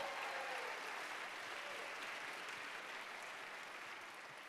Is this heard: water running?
no